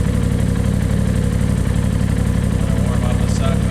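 A Polaris RZR Turbo S engine with a Trinity aftermarket exhaust idles close by with a low, throaty rumbling grumble, holding an even, continuous drone throughout.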